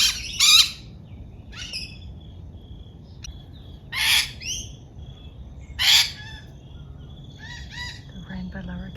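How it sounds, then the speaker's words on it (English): A noisy wattle bird calls in a garden, giving loud harsh squawking bursts spaced a second or two apart, with fainter chirps from other birds between them and a soft outdoor hiss underneath. "that noisy bird is a wattle bird"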